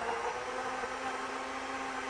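A kitchen blender whirs steadily, mixing a herbal drink of juice with chopped apples, pears and other fruit, a continuous close motor hum and grind with no voices.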